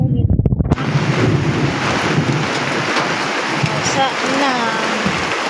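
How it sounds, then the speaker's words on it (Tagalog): Heavy rain pours during a thunderstorm, a loud, dense and constant roar close to the microphone, with a person talking over it. "Lumalakas na yung ulan."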